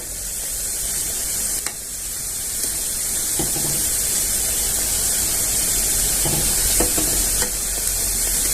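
Coriander bhaji fritters made with bajra (pearl millet) flour fry in hot oil with a steady, close sizzle and hiss, broken by a few soft clinks and stirring scrapes.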